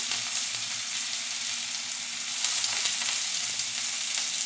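Onions fry in oil in a pan with salt, giving a steady, close, dense sizzle that holds evenly throughout with a few faint stirring ticks.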